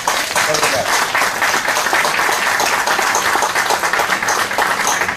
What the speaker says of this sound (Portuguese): E para ele também uma salva de palmas, por favor.